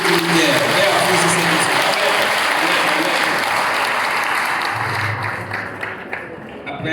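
A church congregation at a harvest festival and baptism service in Hinche claps in sustained, loud, dense applause that fills the room, easing off near the end.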